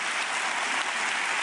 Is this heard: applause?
yes